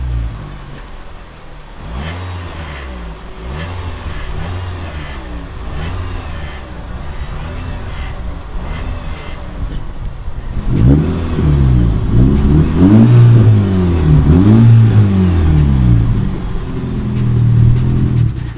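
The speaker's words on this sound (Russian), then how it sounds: "давайте с вами послушаем, как же она звучит на закрытую заслонку и на открытую" An Audi A6 exhaust with tuning valve flaps burbles at idle with pulsing revs, flaps closed, then turns noticeably louder and deeper with flaps open as the engine keeps revving rhythmically.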